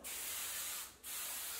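Hair spray misted onto hair during curling, a steady loud hiss that pauses briefly near the middle before resuming.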